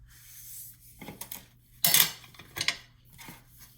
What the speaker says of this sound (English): All we're doing is folding it directly in half.